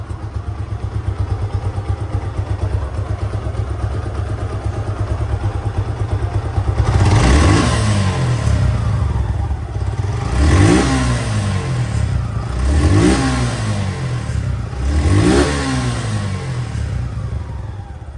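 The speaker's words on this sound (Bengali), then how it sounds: "গাড়ি কিন্তু রানিং অবস্থায় আছে" A 2024 Suzuki Gixer motorcycle engine idles with a steady low throb, then is revved four times in even bursts, each rising and falling back to idle, close and fairly loud with no talk.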